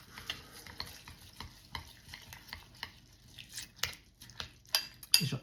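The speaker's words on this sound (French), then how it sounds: "Je mélange." Spoon stirring a nut pudding mixture of nuts eaten like cereal in a bowl: repeated soft scraping and clinking strokes at close range in an irregular rhythm, alone without talk.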